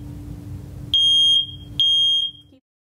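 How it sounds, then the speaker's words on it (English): A smoke alarm sounds two sharp, piercing beeps, each lasting about half a second, over a quiet hum in the background. "if it's a working smoke alarm, it would go off"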